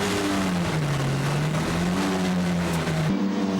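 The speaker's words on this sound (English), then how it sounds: "these little Minis certainly do scream" Classic Mini race car engine at full revs during a Super Mini Challenge race at Manfield, heard on board: a loud, continuous high-pitched scream with steady harmonics that rise and dip through gear changes, with no talk over it.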